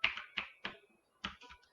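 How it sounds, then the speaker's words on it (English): Computer keyboard keys click in a few sharp, separate taps close by, three quick strokes, a pause, then two more, with nothing else heard. "I just love the sound the keyboard makes."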